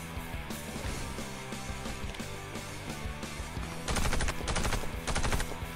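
Rapid video-game gunfire, a fast-firing weapon rattling in repeated bursts over a continuous game backdrop, with the loudest volleys near the end.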